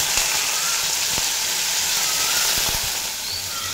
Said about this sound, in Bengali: দিয়ে পর হালকা করে ভেজে নেব